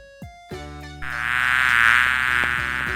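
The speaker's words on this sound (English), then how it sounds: "Bee. Bees" A single insect buzzes in a high, sustained drone that starts abruptly after a few clicks and tones, holding steady and fairly loud close by, with no voices.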